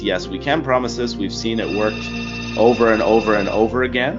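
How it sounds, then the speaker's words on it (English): A telephone rings with a steady electronic tone in the background while someone talks continuously over it in the foreground. "Sorry about the phone there"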